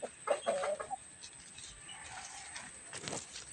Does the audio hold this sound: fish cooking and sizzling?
no